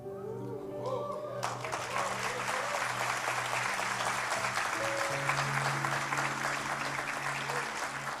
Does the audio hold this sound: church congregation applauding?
yes